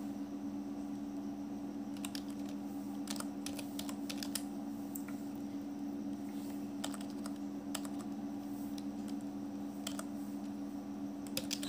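Keys clatter on a computer keyboard while text is entered into a Microsoft Excel macro, a quiet, irregular run of light clicks over a steady low hum from a nearby machine.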